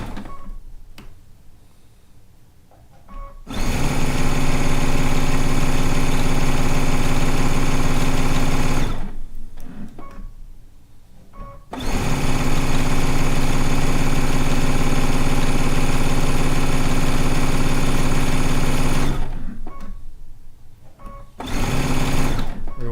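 A sewing machine strip piecing fabric stitches in long continuous bursts with a steady mechanical whir, stopping briefly between runs, close and loud.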